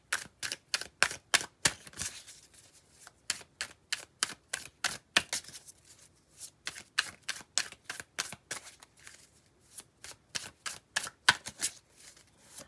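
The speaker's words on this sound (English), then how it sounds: "I'm going to draw some more cards on that." Tarot cards shuffled and drawn by hand, a long run of crisp rapid riffling snaps in quick rhythmic bursts, close and clear with brief pauses and no talking.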